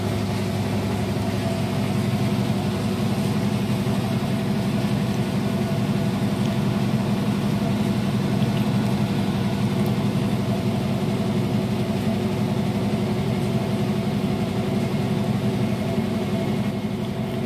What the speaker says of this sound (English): I notice it's stable and quiet while spinning so fast.